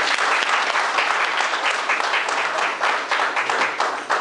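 A roomful of people at a Valdosta public community meeting breaks into loud, steady applause for the invited guests, many hands clapping in a dense continuous wash.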